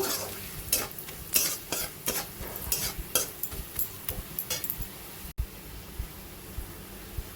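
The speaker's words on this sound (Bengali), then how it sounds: "দিয়ে মশলাটা একটু এক মিনিট মতো ভেজে নেব" Onion with salt, turmeric and ground coriander sizzles in a pan while a utensil stirs and scrapes repeatedly, giving a steady frying hiss broken by close clinks.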